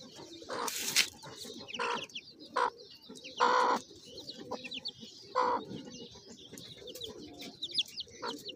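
A hen clucks softly among four-day-old Muscovy ducklings and a few chicken chicks, with short bursts of clucking and high chick peeps scattered throughout, close by and fairly quiet.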